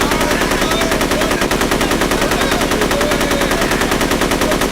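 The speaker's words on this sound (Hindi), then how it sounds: "ऊपर से तुम लोग गोली चला रहे हो।" Rapid machine-gun fire rattles nonstop in a steady, evenly spaced stream of loud, close shots, a movie battle scene with no talking over it.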